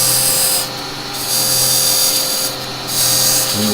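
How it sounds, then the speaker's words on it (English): A square chisel cutting the end grain of a wooden pot spinning on a lathe while turning a threaded lidded pot, a steady, loud scraping hiss over the motor hum, easing briefly twice, with no voices. "using the square chisel"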